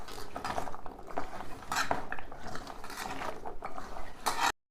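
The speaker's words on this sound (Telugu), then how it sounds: "ఇట్లా కలుపుకోవాలి మంచిగా మొత్తం ముక్కలకు అన్నిటికి పట్టేటట్టు నిమ్మకాయ రసం పట్టేటట్టు మంచిగా" Carrot pieces being stirred with lemon juice for a pickle, giving a steady run of close, wet clinking and scraping of utensil against bowl, alone with no voices.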